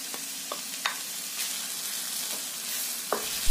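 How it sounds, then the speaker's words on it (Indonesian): Large green chilies and green bird's eye chilies stir-fry in a pan for a spicy green chili chicken dish, a steady close sizzle with a few scrapes of the spatula and no talking. "Lalu, tumis kembali sampai benar-benar matang."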